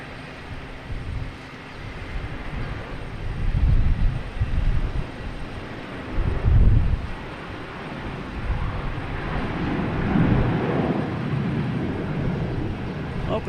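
An airliner's jet engines at Boston Logan Airport: a broad, steady roar that swells and fades in waves over several seconds, heard from a distance outdoors with some wind buffeting the microphone.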